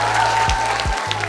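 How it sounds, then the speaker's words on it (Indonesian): A short burst of crowd applause in an outdoor setting in Wonogiri, close and loud, over a low humming drone with a couple of thumps. "Tepuk tangan."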